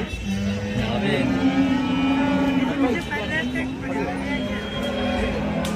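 Low, drawn-out cow moos sound amid a busy outdoor crowd murmur at the Alamanda cattle market, with babble and background noise throughout.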